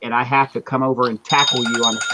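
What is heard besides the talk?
alarm ringing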